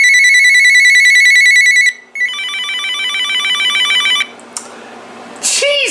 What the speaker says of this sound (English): So that was the flicker and clatter ringtones.